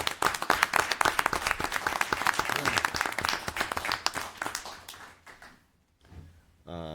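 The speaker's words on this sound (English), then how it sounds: "Give them a round of applause" A round of applause for municipal clerks at a town council meeting, dense clapping from the chamber for about five seconds before dying away into near silence, then a brief sound at the very end.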